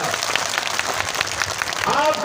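A crowd claps at a Lok Sabha election public rally in Rajgarh, a dense, rain-like patter of applause that holds steady and swells slightly at the end, with a voice mixed in.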